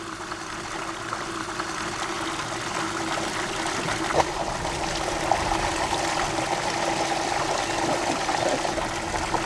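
Irrigation water from waterwheel buckets spills into a siphon mouth on a garlic farm, a steady close trickling and splashing that runs on without a break.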